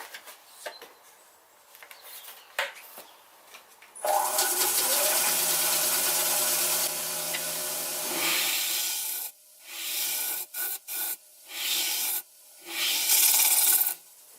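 A sycamore bowl blank spins on a lathe while a tool trues its face, giving a loud, steady scraping hiss that runs for several seconds, then several shorter cutting passes separated by quiet gaps, with light knocks at the start.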